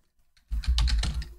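Quick keystrokes on a computer keyboard, a short burst of several clicks close to the microphone after a moment of near silence.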